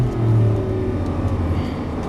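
Lamborghini Gallardo engine on a racetrack, a loud steady drone that dips in pitch as the car brakes hard and downshifts, close and continuous with no talk.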